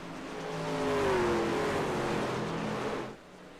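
Racing trucks at Iowa Speedway in a sim racing game, one engine swelling in a pitch sweep as it passes, with a dense, moderately loud roar that drops away near the end.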